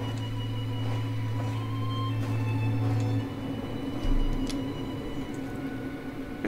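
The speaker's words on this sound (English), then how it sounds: "Listen to the clattering of the train." A train clatters through the Paradise Lost video game, a steady mechanical rattle with a low hum and faint ticking, heard fairly close and alone.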